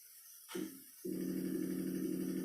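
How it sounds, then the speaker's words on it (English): A short blip, then a steady, sustained electronic buzzing tone from a held-down keyboard key that holds evenly to the end with no variation. "I just held down the O key and it made that noise"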